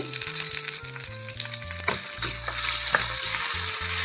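Ginger garlic paste dropped into hot tempering oil with dried red chilli and cumin seeds, frying in a loud, steady sizzle with crackling pops and brief stirring scrapes, alone without talk.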